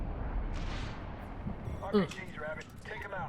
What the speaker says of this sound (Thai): ระเบิดลง